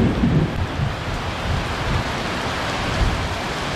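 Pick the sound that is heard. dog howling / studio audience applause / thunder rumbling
thunder rumbling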